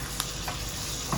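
Meat frying with tomato paste in a pan, a soft steady sizzle with a few quiet stirring scrapes, close and low in level, no voices.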